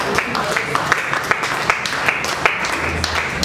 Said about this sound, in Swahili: Yesu makofi ya utukufu.